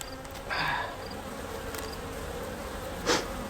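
A steady close drone of honeybees fills the air around an opened hive as a honey super is added, with a couple of louder passes of single bees flying near.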